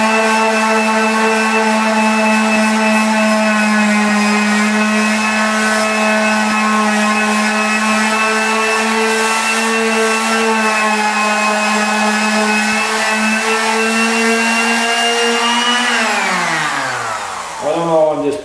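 An angle grinder works steel, feather-edging a fabricated bucket spill guard for a Kubota B Series loader, a steady loud whine with stacked harmonics held for about sixteen seconds before it spins down and drops in pitch at the end.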